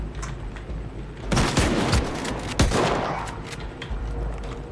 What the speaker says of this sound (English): And I love the shotgun.